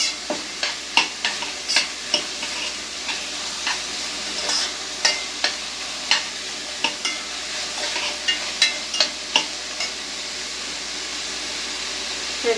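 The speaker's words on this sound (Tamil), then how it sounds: "இதையும் போட்டு நல்லா ஃப்ரை பண்ணணும்." Chopped onion frying in a pan for a Kerala-style chicken curry, a steady bright sizzle with regular scraping stirs every second or so, close and continuous with no talking.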